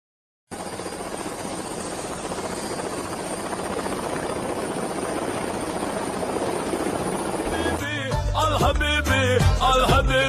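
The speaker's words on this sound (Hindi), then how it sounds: "हाँ, हेलीकॉप्टर पर बैठ के चलवा आसान रहे।" A helicopter flies close by with a loud, steady rotor and engine drone, and people start talking over it near the end.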